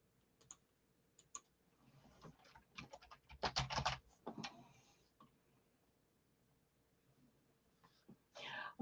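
Computer keyboard typing in scattered bursts, with a dense cluster of quick keystrokes midway and a few isolated taps, fairly quiet and close.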